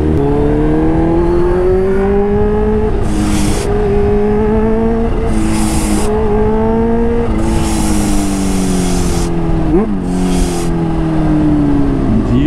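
A supercharged Kawasaki H2 sport motorcycle engine revs and pulls steadily at close range, its pitch climbing and dropping through several gear changes, with brief whooshing bursts between shifts.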